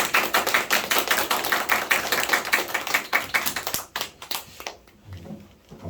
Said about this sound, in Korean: 우리 나오실 때 박수로 환영의 인사를 드리도록 하겠습니다.